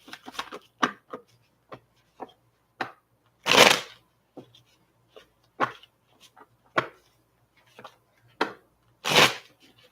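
Tarot cards are shuffled in a live stream, giving irregular soft riffles and slaps, with two longer, louder bursts of shuffling among scattered quieter card taps.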